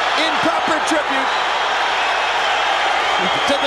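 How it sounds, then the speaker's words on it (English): Boxing arena crowd on its feet cheering at the Gatti versus Ward rematch, a loud sustained roar of cheers and whoops with a commentator's voice rising over it. "Crowd on its feet in proper tribute"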